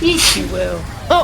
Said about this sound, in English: you sneeze at the same time!